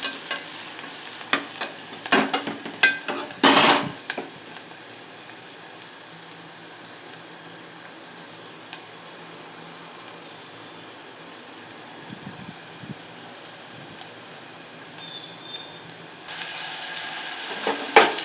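Onion and spices with turmeric frying in a pan for chicken curry, a steady sizzle with scattered stirring clatters early on and a louder hiss near the end, no talking.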